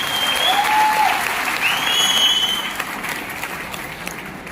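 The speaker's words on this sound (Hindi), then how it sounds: "एक बार जोरदार तालियां होनी चाहिए।" An audience at a recognition event claps loudly and continuously, fading slightly toward the end, with a few whistles cutting through.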